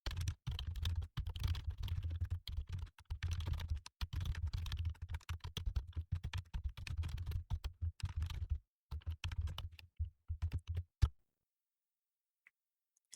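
Fast, close typing of code on a computer keyboard, with dense clattering keystrokes for about eleven seconds, a few pauses, a final sharp tap and then near silence.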